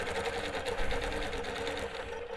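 A longarm quilting machine stitches slowly along a curve during ruler work, its steady, close, continuous mechanical hum and rapid needle clatter running throughout with no talk.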